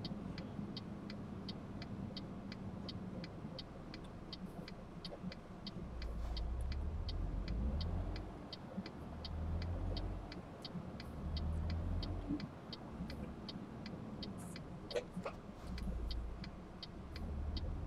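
A steady truck engine drone in Euro Truck Simulator 2, with low rumbling swells and a faint regular ticking over it, no voices, continuous throughout.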